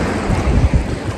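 Ocean surf rolling onto a Sri Lankan coast lined with palm trees, heard as a steady low wash with a couple of surging swells, roughened by wind buffeting the microphone, no voices present.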